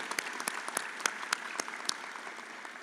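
Sparse clapping from a small audience at a nursing pinning ceremony, a handful of distinct, sharp hand claps spaced unevenly over a soft bed of quieter applause in a fairly quiet room.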